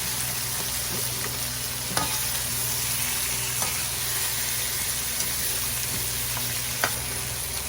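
Chicken feet sauté with onions in a hot pan, giving a steady, close sizzle throughout, broken by occasional sharp clicks of a utensil stirring against the pan.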